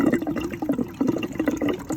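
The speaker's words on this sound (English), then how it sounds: "open these valves on the top up, and what that'll do is that'll drain all the remaining water out of the heat exchanger" Water draining out of the open cold- and hot-side valves on a tankless water heater's heat exchanger, a steady close splashing and gurgling flow with uneven pulses, no talking.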